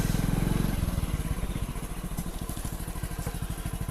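A motorcycle engine idles close by, a fast, steady chugging throb that drops to a slightly slower, uneven putter as the bike is brought to a stop and parked.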